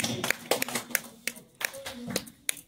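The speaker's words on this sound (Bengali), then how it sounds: "একটা জোরে হাততালি বিবেকানন্দের জন্য।" An audience at a Swami Vivekananda birth-anniversary cultural programme at Rabindra Bhavan claps for a child performer, giving a quiet, scattered run of individual claps at uneven intervals, with a faint voice in the background.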